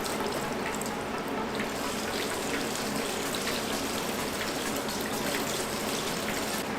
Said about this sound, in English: We're just gonna pour it in there.